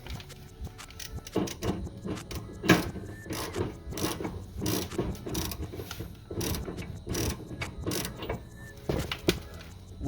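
A ratchet wrench tightens a part on a modified Ford Focus during a link change, giving a steady run of quick metallic clicks in uneven bursts, close and fairly loud, with no talking.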